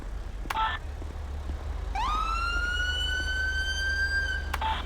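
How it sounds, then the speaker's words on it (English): A police siren winds up from a low pitch into a sustained rising wail for a couple of seconds, bracketed by brief electronic beeps. "Siren to chirp."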